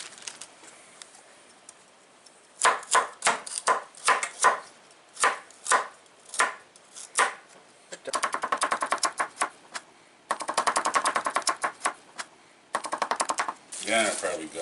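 Onion being chopped on a board with a cutting gadget for ham and bean soup, sharp rapid chops in bursts of quick taps, close and clear, with short pauses between runs.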